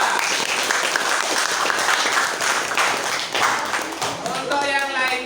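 Students in a classroom clap for the best group, a brisk round of dense applause close by that thins out toward the end, where a voice starts speaking.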